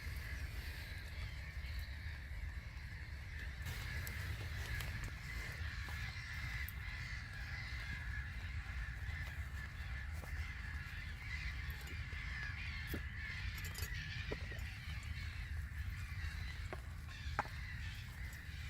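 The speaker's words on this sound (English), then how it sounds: "Bit noisy here though with the birds" Crows cawing outdoors at a campsite breakfast under a tarp, over a steady, noisy background hum, the calls blending into a constant wash of sound with no voices.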